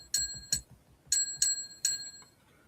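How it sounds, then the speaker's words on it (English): A ring bell sound played from a phone app: five bright, metallic dings in an irregular pattern, two close together, then three more, each decaying quickly, clear and fairly quiet. "and then you got the ring bell."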